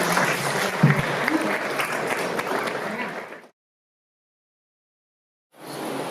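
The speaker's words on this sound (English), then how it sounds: "let's give them a round of applause for being able to do this" A round of applause from a classroom audience for student speakers, dense, steady clapping for about three and a half seconds that fades out, then a brief stretch of silence before clapping resumes.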